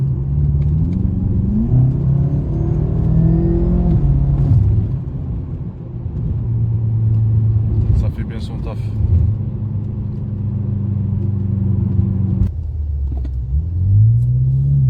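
A BMW M5 F10 sedan drives along, its engine a steady low rumble and hum with a few gentle revving swells. Someone talks over the engine noise throughout.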